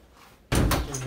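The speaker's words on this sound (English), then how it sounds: "every time he wants to come, he hears the door" A door opens or shuts with one sudden loud bang partway through, then a lingering rattle, after a quiet lead-in.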